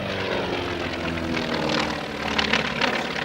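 An FM-2 Wildcat fighter flies aerobatics at an air show, its radial piston engine droning steadily at moderate distance, with a gentle rise and fall in loudness as the plane maneuvers.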